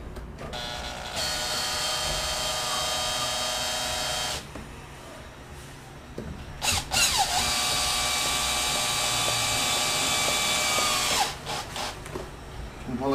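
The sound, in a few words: power drill driving a screw into window stop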